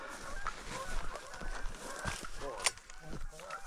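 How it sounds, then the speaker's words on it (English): Geese honk in the distance over open prairie during a bird hunt, repeated calls rising and falling while people talk nearby over a steady outdoor background. "Oh, there's geese back there."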